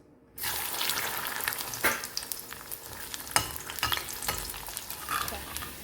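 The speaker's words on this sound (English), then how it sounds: "I'll begin by frying some vegetables." Vegetables for Sindhi kadhi, including large-cut pieces, sizzling and frying in a hot pan, a steady crackling hiss broken by occasional stirring scrapes and sharp pops.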